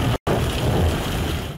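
Heavy rain pours steadily in Murree and the surrounding hills, a dense, loud hiss of falling water broken by one brief cut at the start.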